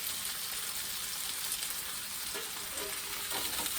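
Pork sausage pieces fry in a cast iron skillet, a dense, close crackling sizzle that stays continuous and even for a few seconds, with no voices.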